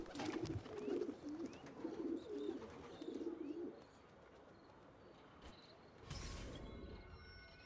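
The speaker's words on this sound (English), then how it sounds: "Pigeon." Pigeons cooing in the Assassin's Creed II video game, several soft rolling coos in a row, then a quieter stretch of ambient game sound and a brief rumbling burst near the end.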